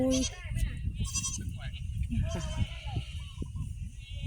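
Goats bleat on a small goat farm, several wavering calls rising and overlapping at close range against farmyard background, with people talking throughout.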